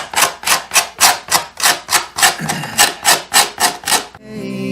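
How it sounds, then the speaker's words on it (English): A scraper rasps excess dried glue off the wooden top of a Harmony tenor guitar, making about a dozen loud, rhythmic strokes up close. A brief tonal ring follows at the end. "I'm going to go ahead and scrape all the extra glue off of this top."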